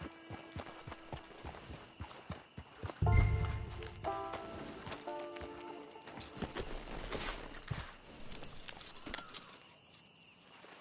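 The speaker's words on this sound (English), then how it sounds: "It's your horse." Horse hooves clip-clop in a steady rhythm in Red Dead Online, with a heavier thud and faint jangling of tack mixed in. The sound is fairly quiet and there is no speech.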